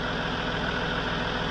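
Land Rover Discovery 3 engine, paired with a ZF 6HP26 automatic gearbox, drones in a steady, even hum with a low rumble and no change in pitch or level throughout.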